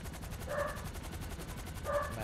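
A dog in the video game Grand Theft Auto V barks twice, short and moderately loud, the two barks spaced over a second apart against a steady background of noise.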